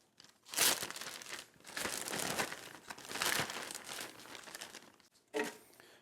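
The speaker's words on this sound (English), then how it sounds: "First thing I'm gonna do is get these in a large 2-gallon zip top bag." Pork being handled into a large 2-gallon zip top plastic bag for tacos al pastor, loud close crinkling and rustling of plastic in several bursts with a short break near the end, no talking.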